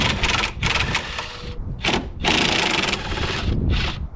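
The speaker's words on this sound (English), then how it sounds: "we're gonna take those lower strut bolts out" Impact wrench rated at 1,400 lb of reverse torque breaking loose the lower strut bolts on a Camaro: about seven loud, close rattling bursts, some long and some short, separated by brief pauses.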